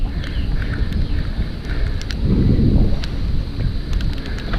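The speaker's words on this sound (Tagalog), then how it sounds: "Ulan na. Sakay ko lang yung bike." Rain begins during a bike ride on a Pangasinan trail, a steady noisy wash mixed with gusty wind rumble against the microphone and a swelling low burst midway, no talk heard.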